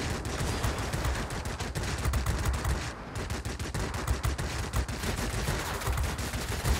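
An aircraft tail gunner fires from a Yak-30 fighter in World of Warplanes, rapid machine-gun rattle over a steady engine drone, continuous and fairly distant.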